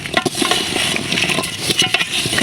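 A spoon stirs mixed vegetables for vegetable khichuri in a pot, giving a busy scraping, clattering sound with faint sizzling. The stirring comes in short repeated strokes and stays close and fairly loud, with no talk over it.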